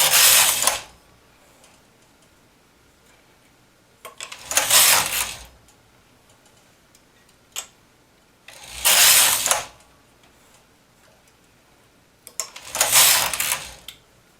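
A knitting machine carriage runs across the stitches in four bursts of loud whirring, clattering mechanical noise, each about a second long and separated by quiet pauses with a single sharp click between.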